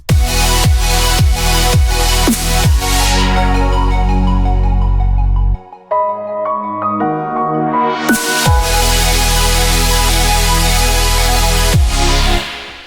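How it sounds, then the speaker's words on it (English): A bright, buzzy supersaw synth sequence with punchy drums and deep bass, a brief sparse break midway, then the full loud pattern returns. "there's a little sequence of drums and bass that goes along with it"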